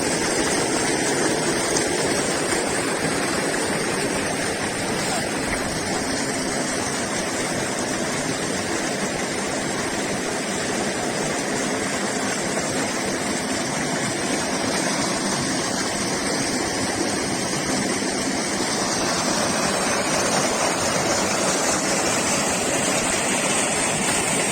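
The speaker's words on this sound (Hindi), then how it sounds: "इस गंदम की फसल को हम वो सल्फर और पोटाशियम पानी के ज़रिए फ्लड कर रहे हैं" Irrigation water flooding a wheat field, with sulfur and potassium fertilizer carried in the flow; a loud, constant rushing wash that runs unbroken throughout, with no voices.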